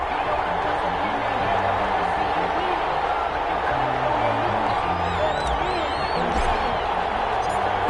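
Stadium crowd in Madden NFL roaring before kickoff of a Cincinnati Bengals versus Atlanta Falcons game, a steady loud wash of cheering and whoops under music, with whistles near the end.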